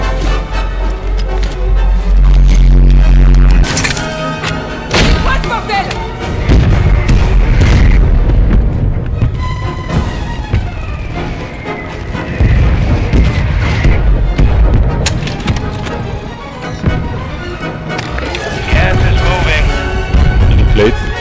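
Grenade blasts erupt in Call of Duty Warzone on Rebirth Island, with several heavy booms and sharp bursts spread across the stretch among game effects and intermittent player chatter.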